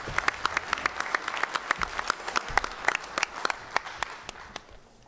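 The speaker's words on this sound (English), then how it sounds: "how about a round of applause for these guys one more time?" An audience claps at a school board meeting, a sustained round of dense, crisp applause from a modest indoor crowd that thins and fades out toward the end.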